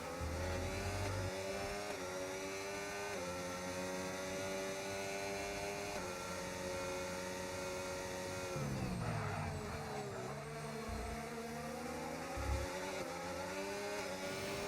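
Formula 1 race cars in a video game roar continuously at full throttle, engines rising and falling in pitch through gear changes and passes, with steady loud engine whine throughout and brief downshifts mid-race.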